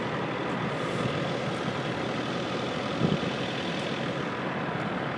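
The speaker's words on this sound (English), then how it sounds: "The truck that Ike's driving," A truck engine idles with a loud, steady broadband rumble throughout, joined by one brief clunk near the middle; no voices.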